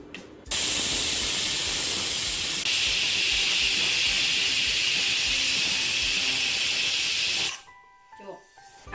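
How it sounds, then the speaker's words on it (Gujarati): Loud, steady steam hissing from a pressure cooker whistle while cooking fada lapsi (cracked wheat), sustained for several seconds before it cuts off abruptly into near silence. "આપણી ત્રણથી ચાર સીટી થઈ ગઈ છે કુકરમાં"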